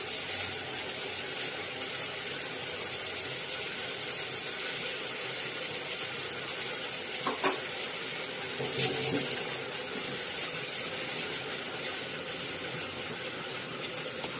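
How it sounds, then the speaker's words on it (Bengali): Cashew and poppy seed paste fries with onion paste in a pan for a curd catla fish curry, giving a steady, even broadband sizzle with a couple of brief clinks near the middle. "কাজু পোস্তর পেস্টটা দেওয়ার পরে আবারও কিছুক্ষণ ধরে ভালো করে কষিয়ে নিতে হবে"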